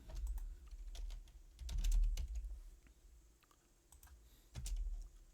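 Keys clatter on a computer keyboard in short irregular bursts, close and moderately quiet, with no voices heard.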